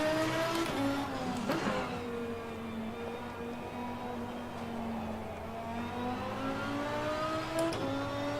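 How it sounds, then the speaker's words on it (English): A V10 sports car engine on a race circuit, held in a long, steady high-pitched howl with slight rises and dips in revs, loud and close, with no talk. "It has an amazing V10 sound."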